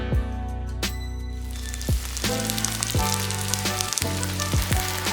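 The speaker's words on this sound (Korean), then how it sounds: "달궈지면 반죽을 크게 떠서 넣고 두껍지 않게 넓게 펴서 크게 한 장 붙여냈다" Oyster mushroom and chive pancake batter fries in hot oil in a pan, giving a steady, loud close sizzle with occasional sharper crackles and stirring scrapes throughout.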